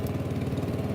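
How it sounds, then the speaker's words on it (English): Stiga ST 600 Twin riding lawn mower engine labouring uphill, a steady, close, low throbbing chug with an even pulsing rhythm through a short stretch. "I like riding any sort of mower, but you can see it's struggling on this uphill"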